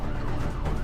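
An ambulance siren sounds at Nigambodh Ghat, Delhi's largest cremation ground, during the 2021 Covid surge, a steady and fairly loud brief wail blended into dense traffic and crowd noise.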